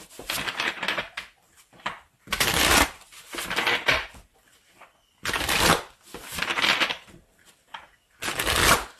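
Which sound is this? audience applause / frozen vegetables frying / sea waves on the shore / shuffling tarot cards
shuffling tarot cards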